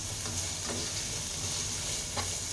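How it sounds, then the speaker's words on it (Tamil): Capsicum fries over a strong flame for street-style egg fried rice, a dense hissing sizzle with occasional stirring scrapes, close and steady with no talking. "ஒரு ஹாஃப் கப் அவ்வளோ கேப்சிகம் இதுவும் போட்டுட்டு நல்லா ஃப்ரை பண்ணிக்கோங்க"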